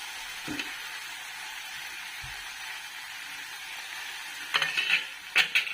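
Masala corn stirred through a pan of spicy sizzling gravy gives a steady close frying hiss, with a few scraping stirs and louder spoon clatters near the end.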